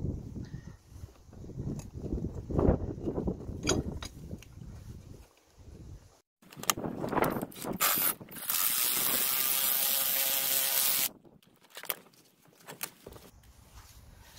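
Coil spring compressor tightened by ratchet on the front strut of a Peugeot 207, bursts of rapid close ratcheting clicks separated by brief pauses, ending in a louder sustained whirring stretch.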